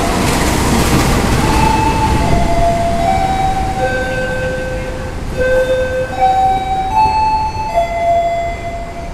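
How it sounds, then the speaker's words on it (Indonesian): Railway level-crossing gate warning siren near Kediri station, a series of clear repeating electronic chime tones sounding over a broad rumble of traffic and crowd noise, moderately close and steady. "Dan ini untuk palang pintu di sebelah selatan itu udah tertutup, udah ada suara sirenenya."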